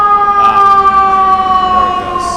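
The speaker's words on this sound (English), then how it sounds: "It's like they are playing that one portion of their siren sound until it just all fizzles completely before it restarts." A fire engine siren wails loudly on a Manhattan street, a steady sustained tone that slowly sags in pitch as it fades out, close and dominant over faint traffic.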